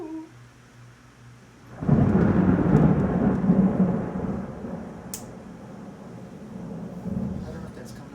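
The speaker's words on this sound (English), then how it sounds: "that's just sheets of rain falling down" Heavy rain pours down in sheets during a thunderstorm, with a loud roll of thunder building partway through and then easing into a steady downpour; a few faint voices sit in the background.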